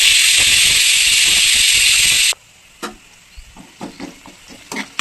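Tempering of curry leaves and spices for a ridge gourd fry, a loud steady hiss of oil sizzling in a pan that cuts off suddenly, followed by scattered stirring clinks and scrapes.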